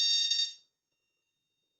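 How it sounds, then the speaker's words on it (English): Fire alarm test sounding inside a building: a loud, steady electronic tone for about half a second that cuts off to silence, then starts again briefly at the very end, alone with no talk. "I think this is a fire alarm test going on in the building I'm in."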